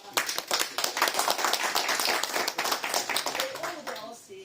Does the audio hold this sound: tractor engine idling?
no